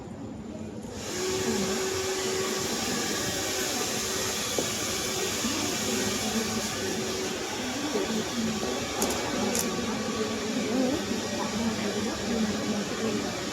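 A hair dryer switches on and blows steadily on a client's hair in a salon, a loud continuous whoosh that holds for the rest of the clip.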